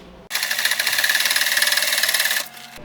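A sewing machine stitching camper upholstery fabric starts abruptly and runs for about two seconds with a rapid, even rattle of needle strokes, then slows and stops.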